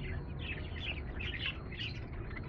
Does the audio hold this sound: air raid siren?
no